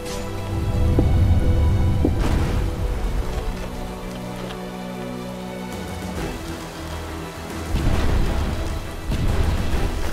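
Steady rain falls in a video game, a dense wash of noise that stays fairly loud throughout, with a few sharper thuds and swells mixed in and no voices.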